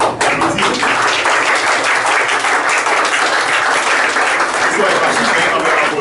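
A congregation at a Sunday church service applauding the choir, a thick, continuous roar of many clapping hands, loud and close, with a few sharper individual claps at the start.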